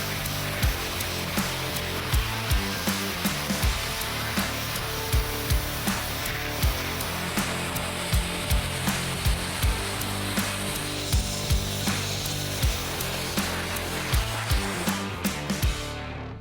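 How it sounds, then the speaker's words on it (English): A pressure washer blasts a degreased junkyard axle meant for a Ford Crown Victoria, a loud, steady, broadband hiss and spray that runs continuously, with a faint regular knocking or pulsing beneath it. "we'll hit it with the pressure washer"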